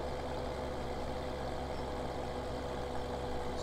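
A tractor engine in Farming Simulator drones steadily as it labours up a hill, a low, even, continuous rumble with no talk over it.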